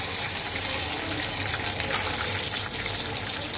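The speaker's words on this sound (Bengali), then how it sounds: "কড়াইতে যখন তেলটা গরম হয়ে যাবে ঠিক ওই সময়ে আমি মাছগুলো ছেড়ে" Batashi fish sizzle in hot oil in a wok, a dense, steady hiss and crackle that stays at an even level throughout, close by and with no talk over it.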